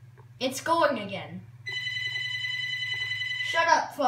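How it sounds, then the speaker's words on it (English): A telephone rings with a steady electronic bell tone lasting a couple of seconds, set between bursts of nearby talking before and after it. "Shut up, phone."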